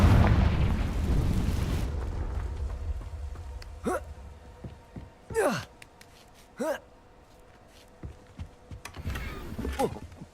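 In Hogwarts Legacy, a Confringo blasting spell goes off with a loud, low explosive burst that fades out, followed by scattered game effects and brief voice-like sounds.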